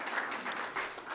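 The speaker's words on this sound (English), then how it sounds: "Please give Community Bank of Elmhurst a nice round of applause." Audience clapping at a Chamber of Commerce and Industry awards gala, a soft, distant-sounding round of applause that holds steady briefly.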